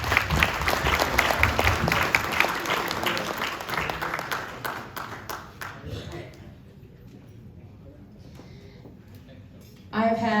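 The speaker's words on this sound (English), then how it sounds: "Let's give another round of applause for Governor Tony Evers." A crowd applauds Governor Tony Evers at an appreciation event, a full round of clapping that thins out and fades midway, with a voice starting to speak near the end.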